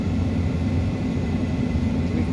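Twin engines of an ERJ regional jet in X-Plane 12 run at climb thrust after takeoff, a steady, loud cabin drone with a low hum and a faint high whine, unbroken and without voices.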